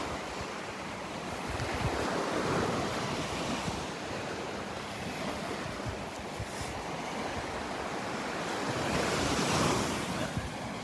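Steady ocean surf and gusting wind at Delnor-Wiggins beach in the morning, with continuous wave wash rising and falling and wind buffeting the microphone, no voices.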